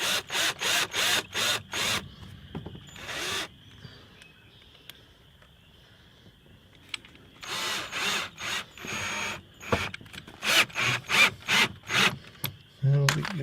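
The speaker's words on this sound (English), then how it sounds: "At least the rubber's easy to drill." A power drill bores through a rubber mudflap during a mudflap installation, with repeated short bursts of whirring drilling separated by pauses, close and fairly loud, followed by a ratcheting tool near the end.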